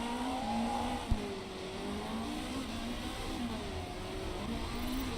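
Race cars in a GT racing video game drone past, a steady layered engine whine with pitch swells as cars accelerate and pass, moderately loud and continuous, with a brief click partway through.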